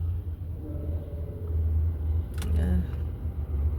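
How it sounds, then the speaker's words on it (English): A car engine idles with a low, steady rumble close by, with a brief rattle partway through. "Let me switch on the car."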